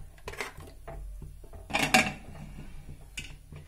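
A cooking pot of fresh green pea dal is covered with its lid, producing a short cluster of metallic clanks near the middle amid quieter kitchen taps, close and without talking.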